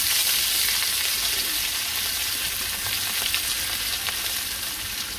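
Fish sizzles loudly in hot oil in a pan, a close, continuous crackling hiss with occasional sharper pops, no talking over it.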